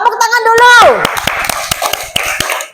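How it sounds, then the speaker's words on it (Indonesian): Children in a classroom lesson clap their hands in a rhythmic pattern of sharp separate claps, following a brief voiced sound at the start, with some talk mixed in. "Tepuk tangan dulu."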